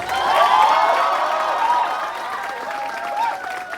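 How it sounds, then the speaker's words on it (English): Applause and cheering from a school farewell audience for the 2022 batch at Amity Saket: a dense, steady wash of clapping and crowd noise that stays loud throughout and eases slightly toward the end. "before I begin, a big round of applause"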